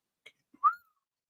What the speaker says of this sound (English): Sorry for whistling.